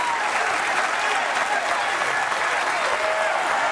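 Dense, loud cheering and applause from an overflow crowd at a professional bowling final, sustained and steady throughout.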